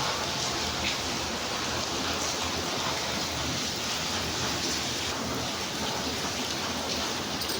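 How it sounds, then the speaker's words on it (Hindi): Heavy monsoon rain pours steadily onto a rooftop, a dense, unbroken hiss of drops that stays loud and close for the whole stretch, with no voices. "अब बरसात में मेरे छत के ऊपर से भी पानी आ जाता है"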